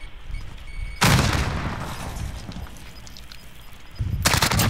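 Call of Duty Warzone combat: a heavy grenade blast with a rolling, decaying tail, followed by quieter battle noise and then a second loud burst of gunfire near the end.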